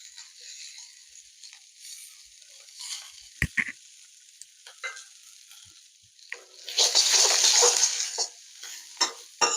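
Mushrooms frying in a pan for mushroom fried rice, light scrapes and clinks of a utensil, then a louder burst of sizzling as they hit the oil, close with quiet gaps between.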